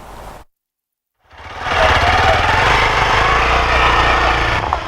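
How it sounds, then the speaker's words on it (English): A health workers' motorbike runs close by after a brief cut of silence, its engine buzzing loud and steady for several seconds with a busy, rattling drone and no talk. "That sound of a motorbike in motion by riders, motoring for health purposes."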